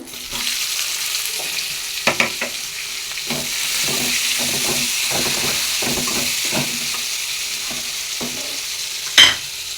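Chopped onions sizzle in a hot pan while a spoon stirs them in repeated scraping bursts, the frying hiss steady underneath and a sharp clink near the end.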